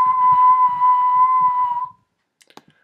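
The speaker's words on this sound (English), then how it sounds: "I'm actually going to record another whistle in here" A person whistles a single steady, close note into a ReDrum sampler and holds it for about two seconds over faint low thumps, then it cuts off and a few soft clicks follow.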